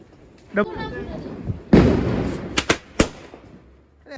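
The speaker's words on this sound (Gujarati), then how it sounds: "ડબ્બા ધમાકા ફોડવાના" Several sharp bangs go off during Diwali, one big burst from a firecracker set off under a tin can followed by a few quick cracks, with people talking and calling out around them.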